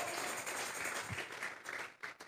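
Church congregation clapping together as an offering of praise, a dense continuous patter of many hands at moderate level, fading slightly toward the end.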